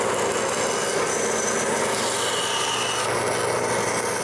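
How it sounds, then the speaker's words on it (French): A saw cuts through the wooden handle of a store-bought brush in continuous, rapid rasping strokes, close and steady with no talk. "puis je commence par leur couper le manche."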